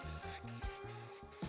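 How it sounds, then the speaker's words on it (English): Olive oil mist sprays onto kebabs at a hot grill in three or four quick hissing bursts with brief pauses between them. The sound is close and clear, and no one speaks. "olive oil spray."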